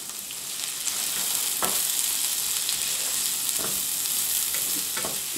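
Onions and bell peppers fry in a pan with butter and oil from canned tuna, giving a steady, close sizzle with a few soft stirring scrapes and no voices.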